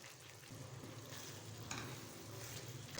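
Ground cumin and coriander are stirred into a tomato gravy for moongre sabzi in a pan, giving a faint, steady sizzle with soft scraping from the spoon.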